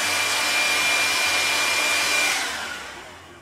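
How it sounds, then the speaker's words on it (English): A heat gun blows a loud, steady rushing whoosh of hot air onto an engraving plate, holding even for a few seconds before trailing off as it is pulled away. "put it on the top like this, and then use heat gun"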